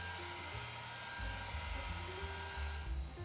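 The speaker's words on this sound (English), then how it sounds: "heat the screen while figuring out how to open it up" A heat tool runs steadily while warming the screen of an iPhone 11 before opening it, giving a continuous airy whine with low motor rumble that swells slightly partway through.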